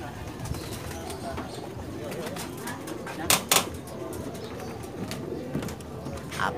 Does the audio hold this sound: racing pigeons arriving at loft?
yes